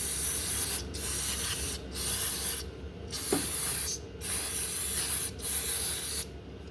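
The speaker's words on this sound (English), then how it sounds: "I'm just using a mass airflow meter cleaner." Mass airflow meter cleaner sprays from an aerosol can onto an electronic part of a 1987 Buick Grand National, coming as several steady hissing bursts with short pauses between them, close and loud, with no talking.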